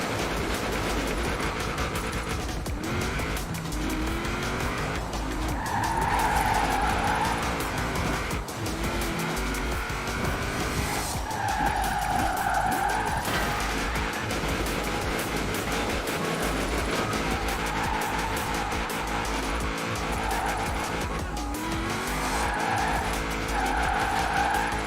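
Loud, sustained tire squeal from a car drifting in the racing game Forza Horizon 4, with the engine roaring and the screech rising and falling without a break.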